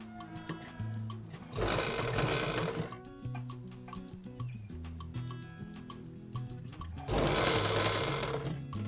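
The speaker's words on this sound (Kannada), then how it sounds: "ಟಕ್ ಬಂದಾಗ ಸ್ವಲ್ಪ ಹುಷಾರಾಗಿ ಸ್ಟಿಚ್ ಮಾಡಿರಿ ಮೇಲ್ಗಡೆ ಹೋಗ್ಬಾರ್ದು" A sewing machine stitches a blouse, with two loud bursts of fast, dense motor whirring separated by quieter stretches of ticking mechanism and rhythmic clicks, close up and without speech.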